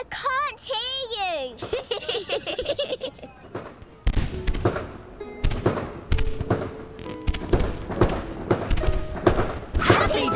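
Diwali fireworks thump and crackle in irregular bursts after an opening stretch of high, wavering tones, with voices and background sound mixed throughout.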